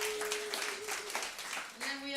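Comedy club audience applauding a performer after her set, a steady wash of clapping at moderate distance with a voice briefly over it.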